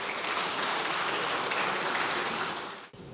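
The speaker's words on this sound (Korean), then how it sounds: "이럴 때 박수 한번 치시면 어떨까요?" Studio applause on a Korean parliamentary news program, a dense steady patter of many hands holding level for about three seconds, then cutting off abruptly near the end.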